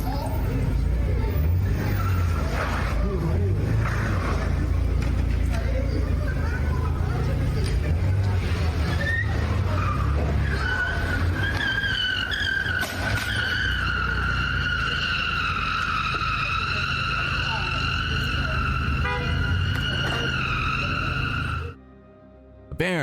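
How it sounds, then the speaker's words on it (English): An SUV that is barely drivable after a crash speeds away, its tires giving a sustained high-pitched screech that rises and holds for several seconds over a busy background of traffic rumble and crowd noise, then cuts off abruptly. "you can hear the tires screeching as the panicked driver attempts to make their escape."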